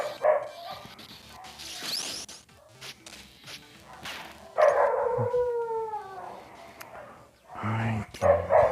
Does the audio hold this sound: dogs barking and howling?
yes